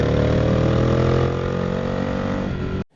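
A motorcycle engine runs loud and close with a rich, steady drone that eases slightly in pitch, then cuts off abruptly at the end.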